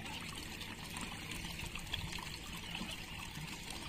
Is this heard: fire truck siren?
no